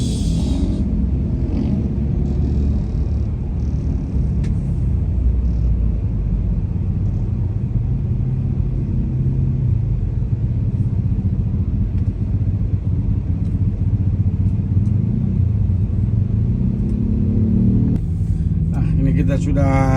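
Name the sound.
traffic jam in Makassar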